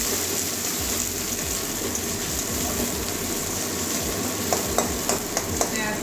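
Chopped onion, from one large onion, sizzles in hot oil alongside green chilies while cooking a jackfruit curry with katla fish head, a steady loud crackle with a few sharp clinks of stirring utensils toward the end.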